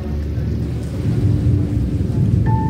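Low, sustained thunder rumble mixed with heavy rain during a rainstorm in Qatar, steady and loud throughout, with a brief high tone near the end.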